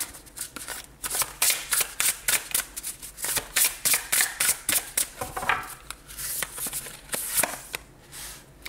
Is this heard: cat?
no